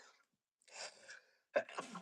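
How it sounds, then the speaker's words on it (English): A single close sneeze with a sharp burst, preceded by a brief intake of breath and followed by a breathy exhale, otherwise quiet. "Oh, I got to sneeze already."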